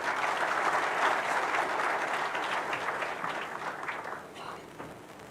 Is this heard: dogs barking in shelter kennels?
no